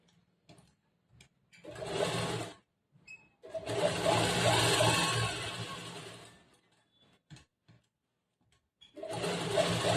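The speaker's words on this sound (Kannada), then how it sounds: "ಈ ಕ್ಯಾನ್ವರ್ಸ್ ಮೇಲೆ ಇನ್ನೊಂದು ಹೊಲಿಗೆ ಹಾಕಬೇಕು" A sewing machine stitches blouse fabric onto canvas in several bursts of steady mechanical whirring, with short pauses between runs and a final burst at the end, close and fairly loud.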